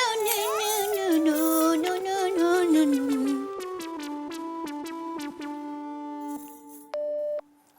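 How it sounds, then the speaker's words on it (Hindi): Tonal music plays, then gives way to a series of electronic beeps and steady tones, ending in a sustained home telephone busy signal. "घर का फोन बिजी आ रहा है।"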